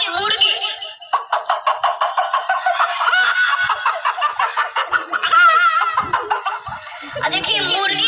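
A child imitates a hen's clucking at a village programme in Pupri, Sitamarhi, with a rapid, steady run of clipped bird-like calls that rises into a higher squawking stretch midway and ends in a burst of laughter-like sounds.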